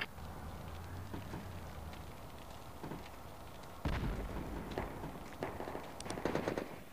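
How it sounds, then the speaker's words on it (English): Gunfire in the military shooter game Project Reality, set in the Korengal Valley, with sharp shots and bursts cracking at varying distances, some distant, one heavier blast midway. "Whoa, taking shots. Warrior taking fire."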